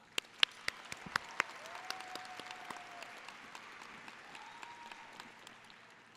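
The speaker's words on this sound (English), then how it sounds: "Let us all give them a warm round of applause." Applause from a crowd at a high school graduation ceremony, heard fairly faint and distant, with a few sharp louder claps near the start over a soft steady patter.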